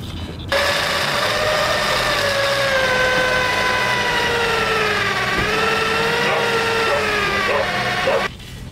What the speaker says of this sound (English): my holes drilled. Hopefully they're the right size